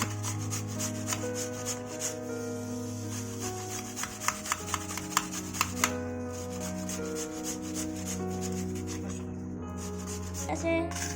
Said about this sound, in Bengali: এখন পরিমাণ মতো আলু কুচি করে নিচ্ছি